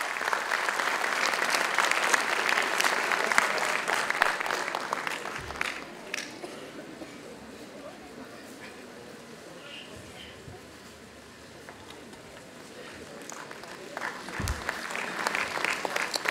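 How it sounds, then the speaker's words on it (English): An audience at an international conference applauds, loud dense clapping that fades out midway, then rises again toward the end. "May I have a round of applause, big round of applause from the audience."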